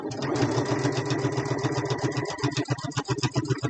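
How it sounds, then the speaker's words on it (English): Sewing machine stitching fabric for a small fabric basket, a steady rapid mechanical patter of needle strokes running continuously at close range, slightly uneven near the end as the stitching slows. "I'm coming back up to where my stitching started, and I'm going to lock it."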